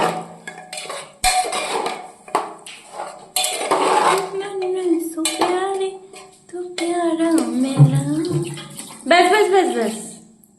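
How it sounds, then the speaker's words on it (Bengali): Water is poured into a pot of dal as it cooks, with a little pot and utensil clatter mixed in. People talk over most of the sound. "এবার ডালের মধ্যে একটু জল দেবো এখানটা একটুখানি জল দাও"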